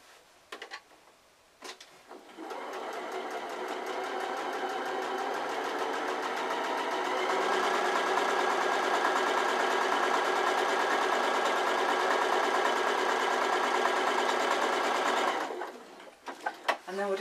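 A sewing machine stitches an iPad case with pockets, running steadily for about thirteen seconds in a continuous whirring buzz, with brief quiet handling clicks before it starts and after it stops.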